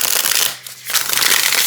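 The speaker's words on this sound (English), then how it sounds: "It does really shuffle beautifully." A black-edged tarot deck with matte black backs being shuffled, a loud, close riffle of crisp card flutter with a brief pause midway before the flapping resumes.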